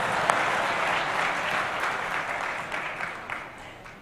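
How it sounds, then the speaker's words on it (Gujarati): An audience at a religious discourse gathering claps together in a dense, sustained round of applause that fills the hall, gradually thinning toward the end. "તાળીઓ પાડો."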